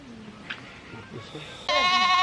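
A goat on a farm lets out a loud, wavering bleat near the end, after quieter movement and a faint earlier call.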